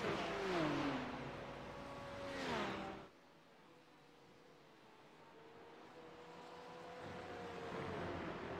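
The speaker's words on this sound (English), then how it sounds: "A Porsche versus BMW down the main straight." Porsche and BMW GT3 race cars sweep down the main straight at Road America, two faint engine passes rising and falling in pitch early on, then a softer drone returning as another car approaches.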